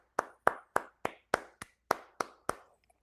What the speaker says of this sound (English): Round of applause for Mr. Cowardly Lion, Nick Albir.